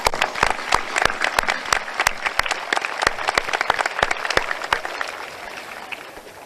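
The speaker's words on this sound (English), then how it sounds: "Could we have a round of applause for them?" An audience applauds teachers and staff at a school gathering, a loud, close round of many distinct sharp claps in a brisk, irregular patter that thins slightly toward the end.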